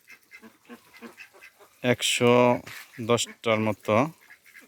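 Khaki Campbell ducks on a village duck farm give a few loud, close quacking calls in quick bursts, with someone talking quietly between and under them.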